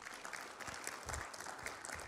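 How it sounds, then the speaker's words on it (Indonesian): Applause rises from the audience at a government keynote speech on public housing, a fairly quiet, steady patter of clapping heard from a distance with no clear speech over it. "Tepuk tangan untuk beliau."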